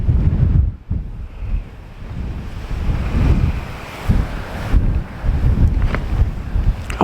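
Strong, gusty wind buffets the microphone on the exposed cliff tops of Bennan Head by the sea, a loud, rumbling roar that surges and dips in repeated gusts.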